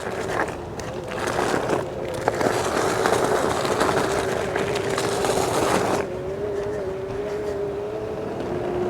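Gotrax GMAX Ultra electric scooter rolling over a gravel patch, giving a steady rough crunching rumble with a motor whine that rises and holds after the ride smooths out near the end.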